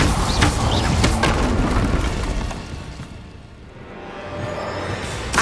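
Incendio fire spell cast in Hogwarts Legacy on PS5, a loud whooshing fiery burst that rumbles broadly, fades into a quieter lull, then swells again near the end.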